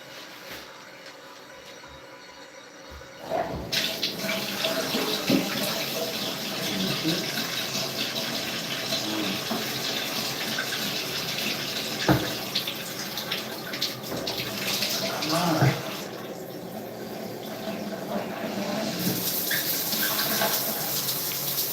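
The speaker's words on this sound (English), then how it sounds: "Alright, so the shower is turned on." A shower running in a bathroom in New Mexico, a steady broadband hiss of spraying water that starts abruptly after a few seconds of quiet and carries on throughout, with occasional splashes and knocks.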